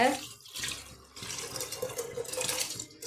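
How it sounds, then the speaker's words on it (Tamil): Soaked rice and its soaking water pour into a cooking pot for tomato rice, making a continuous watery splashing and gurgling pour, close and moderately loud, while a voice talks alongside. "இப்போ இந்த ஊற வச்ச இந்த அரிசி தண்ணி அரிசி எல்லாத்தையுமே ஊற்றிடலாங்க"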